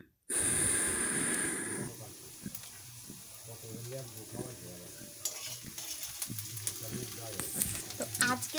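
Ground spices fry in hot oil for a dhaba-style tarka while a spatula stirs them: a loud hissing burst as they hit the pan fades into an ongoing sizzle with scraping strokes.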